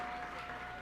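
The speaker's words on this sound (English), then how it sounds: "let's give him another round of applause" Award ceremony audience at the 2017 Cammy Awards gives a round of applause for a winner, a brief, dense patch of crowd clapping heard from a distance.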